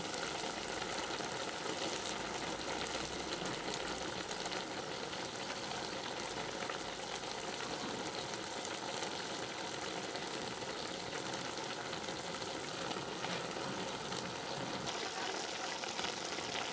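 Bean curry thick and simmering in a pan, stirred with a steady, continuous sizzling and bubbling hiss that stays fairly loud and even throughout, with no voices over it.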